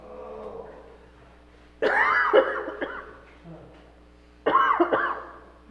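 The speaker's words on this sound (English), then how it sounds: "it's just a dry cough" Two harsh, throaty dry-cough bursts a few seconds apart during a council meeting, close and loud, with quiet breathing and a faint voice between them.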